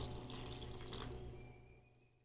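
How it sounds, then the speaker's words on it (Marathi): Water is poured into a cooking pot holding soaked soybean chunks and vegetables, a faint splashing gush lasting about a second before tapering off into quiet. "ज्यामध्ये मी पाणी घालते।"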